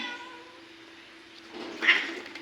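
A single cat meows briefly near the end, fairly close, after a quiet stretch of low background noise.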